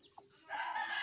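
High, thin peeping of newly hatched chicks about a day old chirps continuously, faint at first then louder and denser through the second half.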